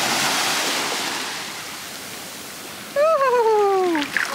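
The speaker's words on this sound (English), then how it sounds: "Alrighty, Sea of Japan." Surf from the Sea of Japan rolling onto the shore, a broad wash that gradually fades, then a voice exclaims over it near the end.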